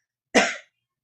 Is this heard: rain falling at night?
no